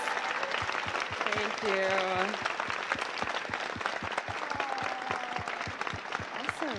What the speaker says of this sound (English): A big round of applause to all of these incredible actors.